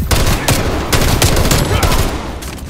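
Rapid gunfire in Call of Duty: Black Ops Cold War, loud, dense bursts of shots layered almost continuously, with brief gaps, as a voice talks over the action.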